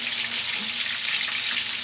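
Chicken drumsticks deep frying in plenty of cooking oil, a steady, close, hissing sizzle that holds evenly throughout with no voices.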